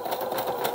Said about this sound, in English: Okay, I'm sewing.